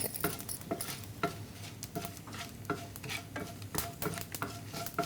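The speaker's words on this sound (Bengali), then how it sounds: "কন্টিনিউসলি নাড়াতে হবে যাতে এটা পুড়ে না যায়" Green chilies and bay leaves stirred in hot oil in a pan, a spoon scraping in regular close strokes over a light sizzle, fairly quiet, no talking.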